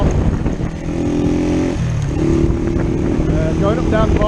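A Honda CB100N motorcycle engine drones steadily while riding, its pitch dropping and rising through gear changes, heard close and continuous with wind noise and a voice talking over it.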